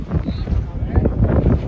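Cold mountain wind at Rohtang buffets the microphone in rough, low gusts, with blustery rumbling that mixes with indistinct voices nearby.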